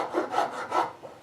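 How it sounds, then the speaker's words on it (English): Hand file rasping across a wooden chair leg to smooth out bandsaw marks, three or four close rhythmic scraping strokes in quick succession. "light filing here to get the bandsaw marks out, deep cuts"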